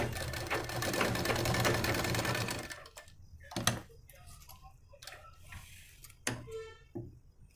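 Sewing machine stitching an Aari work blouse, starting with a steady loud mechanical whir for a few seconds, then giving way to sparse ticks and clicks of fabric handling.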